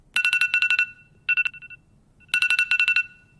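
A default phone alarm ringtone plays close and clear: a fast run of bright electronic beeps, a shorter run, a brief gap, then the beeping pattern repeats.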